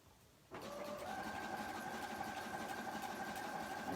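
A sewing machine starts up abruptly and stitches fabric in a steady, continuous whirring hum, close by with a faint mechanical whine and no talking.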